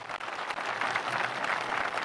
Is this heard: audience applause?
yes